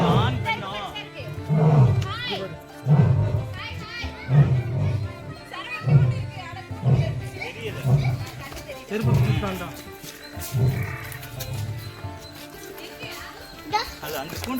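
Asiatic lion at Vandalur zoo (Arignar Anna Zoological Park) in Tamil Nadu, giving a series of deep, rhythmic roaring grunts that repeat steadily, heard amid a lively crowd of visitors with children chattering and people talking nearby.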